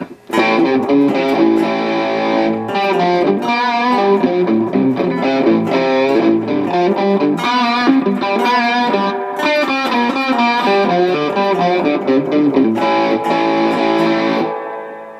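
An electric guitar plays chords and runs through a Fender amp with a lush, springy reverb, loud and continuous for about fourteen seconds before it cuts off.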